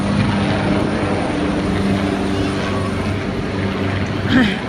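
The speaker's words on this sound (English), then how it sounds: "There's the red helicopter." A steady, droning rumble of a helicopter overhead, continuous and fairly loud, with no clear voices over it.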